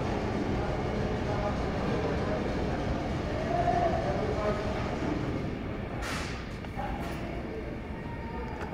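Riding inside an R68 G subway train in New York between Hoyt-Schermerhorn and Broadway, a steady rumbling roar of wheels and car noise fills the space, with a few brief squeals and faint voices.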